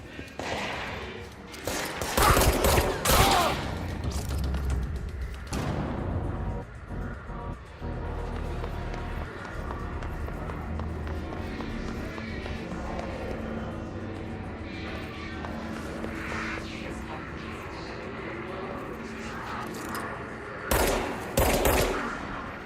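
Gunfire in the video game Control: loud bursts of automatic fire near the start and again near the end, with a quieter rumbling stretch between them.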